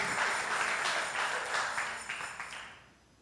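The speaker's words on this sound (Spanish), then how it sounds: "Vamos Yes. a darle un aplauso más." A church congregation gives a round of applause, a bright patter of many hands clapping together, swelling briefly and then fading away toward silence, with no talking over it.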